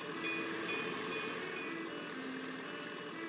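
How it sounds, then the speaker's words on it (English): A train runs along the track in the OpenTTD video game, a steady, quiet rolling rumble with faint rhythmic clicks, with no other sounds over it. "one of the old trains has now started to use the new parts of the track that we put in"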